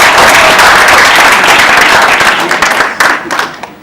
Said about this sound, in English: I think I deserve a round of applause.